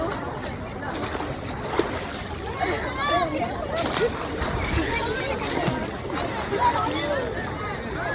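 People bathing in river water at the Kumbh gathering in Prayagraj, with steady splashing and sloshing close by under a busy hubbub of voices and speech throughout.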